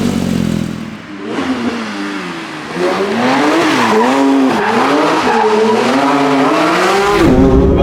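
Porsche 911 992 GT3 RS with its 4-litre flat-six pulling away hard, loud and close, the engine note rising and falling through repeated revving and gear changes with tyre noise beneath, no talk over it.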